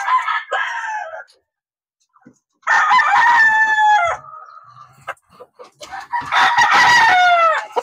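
Roosters crowing in a chicken pen on a poultry farm, three loud, close crows with pauses between them, plus scattered clucks and faint farmyard noises.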